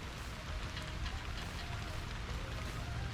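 Heavy rain in Florida pouring down as a dense, steady hiss of drops on surfaces, loud and close with no pauses.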